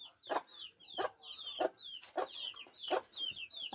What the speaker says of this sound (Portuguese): A galinha tá ali com os pintos.